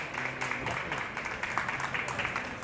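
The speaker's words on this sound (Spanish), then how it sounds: "Un aplauso caluroso para ella." Warm applause from an audience at a formal magazine launch presentation, a steady wash of many hands clapping throughout, moderately loud and continuous without pauses.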